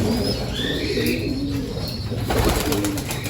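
Pigeons in a loft colony give low, rolling coos, with a few faint chirps over a constant background hum.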